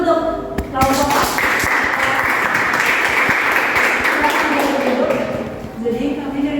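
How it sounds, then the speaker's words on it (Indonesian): Students in a mathematics classroom break into steady applause for a presenting group, a dense, loud wash of clapping lasting several seconds, with brief speech just before and as it fades. "tepuk tangan dulu untuk kelompok A"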